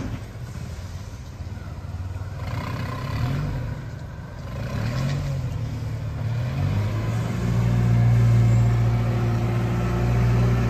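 A Toyota 1-ton petrol forklift drives around close by, its steady engine drone rising slightly as it moves, with no talk over it.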